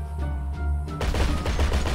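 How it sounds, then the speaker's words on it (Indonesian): Vehicle-mounted military gun fires in GTA 5, a loud rapid burst of automatic shots starting after a low engine hum, rattling steadily close up. "kita coba tembakin senjatanya, nih."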